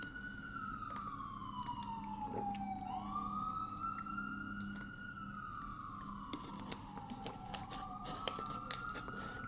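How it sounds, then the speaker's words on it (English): Emergency siren on a New York street, a slow wailing tone rising and falling several times at a moderate distance, faint over a low steady street rumble, with no talk. "New York always has like sirens going off, like ambulances everywhere."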